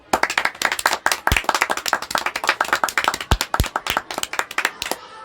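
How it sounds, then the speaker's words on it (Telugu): A classroom of students claps their hands for a classmate, a dense burst of overlapping claps that runs steadily and fairly loud for several seconds, with a few sharper close slaps standing out. "అందరు కార్తీక్ కోసం క్లాప్స్ కొట్టండి."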